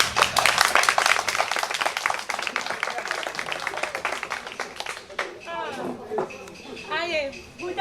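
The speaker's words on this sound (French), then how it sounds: "Quand les gens applaudissent beaucoup, c'est qu'il a gagné" An audience at a cultural day event claps loudly to vote for a contestant, with dense, vigorous clapping that gradually thins as voices begin talking over it.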